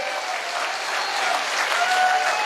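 A live audience at a talk breaks into loud, sustained applause, a dense steady wash of many hands clapping that swells slightly toward the end, with no voices over it.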